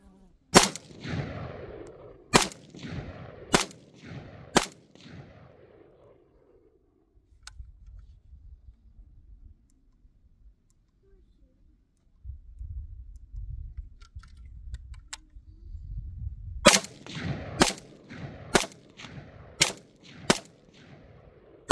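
A rifle fitted with a magnified optic fires at targets 100 yards away: sharp, loud shots ring out, four in a quick irregular series, then a long quiet stretch with faint low rumble, then another rapid run of five or six shots.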